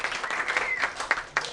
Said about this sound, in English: Really, you can clap.